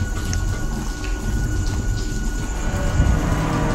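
Steady nighttime rain in a week of daily downpours, a dense continuous hiss with low rumbling underneath, holding loud and even throughout with no voices.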